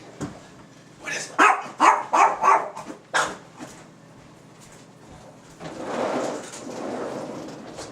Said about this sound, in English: She was just going to sit there and bark at the door.